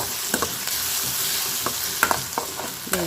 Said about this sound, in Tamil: இப்போ வந்து வெங்காயம் நல்லா வதங்கிட்டு இருக்கு.